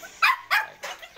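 German Shepherd mix puppies give three short, close barks with brief gaps between them, the last one a little softer.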